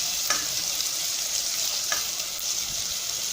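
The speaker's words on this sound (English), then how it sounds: "Now I'm frying my onions." Onions sizzle steadily in hot vegetable oil, a constant crackling hiss with a few faint clicks of stirring.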